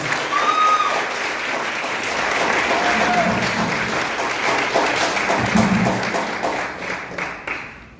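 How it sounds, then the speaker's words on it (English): An event audience claps as a family is honored and called to the front. The sustained, loud applause from the crowd holds steady for several seconds, then thins out and fades near the end. "Give them another round of applause."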